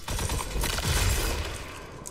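Bursts of rapid gunfire in the video game Destiny 2, dense crackling volleys with booming impacts, loud and continuous.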